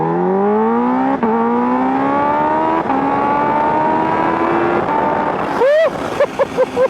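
A 2024 Kawasaki Ninja H2 supercharged motorcycle with aftermarket upgrades revs loud and close, its pitch climbing in a long sustained pull at partial throttle, then cutting off into sharp short blips and pops.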